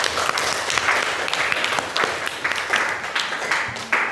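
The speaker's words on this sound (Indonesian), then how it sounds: "beri aplaus buat kelas MIPA" Classroom of students applauding a MIPA class, a dense, steady round of clapping with a few louder individual claps, running the full length under light voices.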